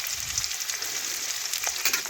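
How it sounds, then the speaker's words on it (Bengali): Chopped onions fry in hot oil with whole cumin and five-spice seeds, giving a steady, close, continuous sizzle for a couple of seconds with no talking. "এখন পেঁয়াজ একটু লাল লাল করে ভেজে নেব।"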